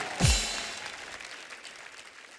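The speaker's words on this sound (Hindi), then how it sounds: "इनके लिए एक बार जोरदार तालियां।" Audience applause on a Hindi comedy show, opening with a sharp descending swoosh effect, then a soft, diffuse wash of clapping that gradually fades.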